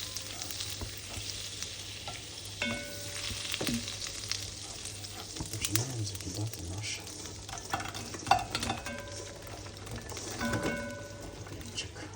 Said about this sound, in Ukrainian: Помішуємо, прогоряємо.